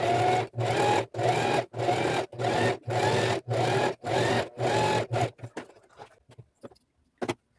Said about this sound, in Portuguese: Agora eu vou passar uma costura aqui, ó. Um zigue-zague bem fechadinho